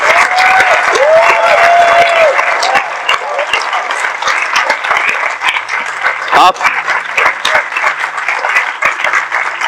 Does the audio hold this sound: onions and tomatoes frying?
no